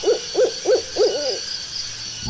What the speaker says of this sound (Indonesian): serta sesekali ditingkah suara burung hantu